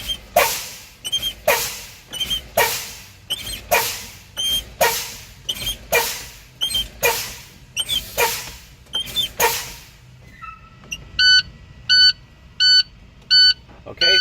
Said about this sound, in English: I see a solid red light and hear a buzzer at 61 psi